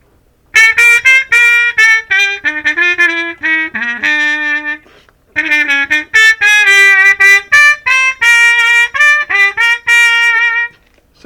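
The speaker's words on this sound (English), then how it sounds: "then we have something called the Harmon mute." A trumpet played with a Harmon wah-wah mute with its stem fitted gives a bright, tinny, buzzy tone. A close, loud run of short and sustained notes comes in two phrases separated by a brief pause.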